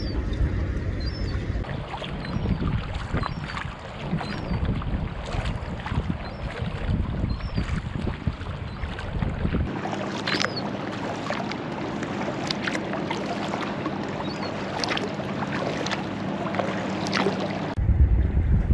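Sea kayak paddling on clear water near the mouth of False Creek in Vancouver, with soft rhythmic paddle strokes and water sloshing close by, wind buffeting the microphone, and a low steady rumble joining partway through.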